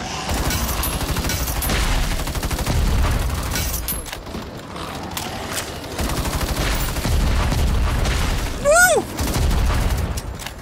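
Dense gunfire and booming explosions fill a Battle Teams 2 shooter match, with heavy low rumble and rapid crackling bursts throughout, plus a brief whooshing sweep near the end; a player talks over the din.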